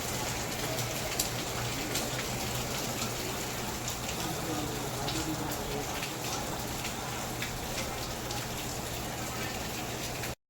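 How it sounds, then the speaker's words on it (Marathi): Light rain falls behind a hotel room, a steady soft hiss of drops spread evenly throughout with faint voices in the background. "थोडा थोडा पाऊस पण आहे"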